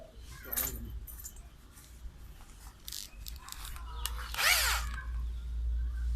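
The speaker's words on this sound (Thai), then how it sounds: "วันนี้เขาสิมาเจาะใส่ตัวนี้ เจาะใส่ตัวนี้" A power drill bores a hole for a door knob lock, sounding in several short, sharp bursts of whirring over a low background hum, fairly close.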